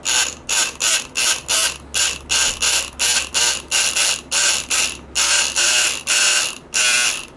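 A Multipick KRONOS lock pick gun chatters in rapid ratcheting bursts as its needle tensioner is adjusted, loud close mechanical clicking pulses repeating about twice a second, with short pauses between groups.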